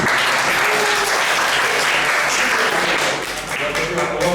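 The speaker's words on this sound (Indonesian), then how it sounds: "Kita berikan tepuk tangan kepada kelompok itu." A classroom full of people applauds a presenting group, a loud, dense and steady wash of clapping that holds throughout and dips briefly near the end, with some voices mixed underneath.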